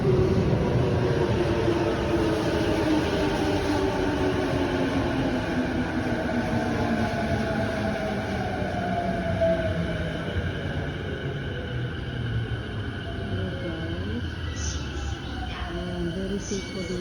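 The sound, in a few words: local train arriving at station track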